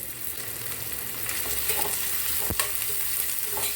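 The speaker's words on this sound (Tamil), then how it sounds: "இப்போ வெங்காயம் நல்லா வதங்கிருச்சு" Onions sauté in a pan while goat spleen fry is being cooked. A steady close sizzle runs under occasional stirring scrapes and a couple of sharp clicks, with no one speaking.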